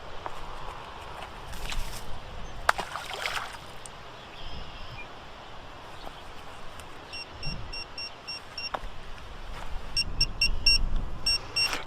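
A fish finder on a boat gives short, repeated electronic beeps, becoming more frequent toward the end over outdoor water and wind noise with a few knocks.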